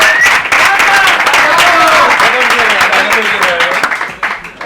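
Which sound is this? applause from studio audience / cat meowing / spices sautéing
applause from studio audience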